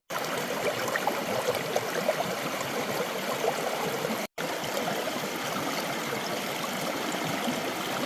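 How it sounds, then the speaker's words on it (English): Water pours steadily over an innovative drop riffle sluice box, a continuous close splashing rush washing lighter material out of the riffles, broken only by a brief gap midway. "I can do that by letting the water run over it and remove these lighter materials."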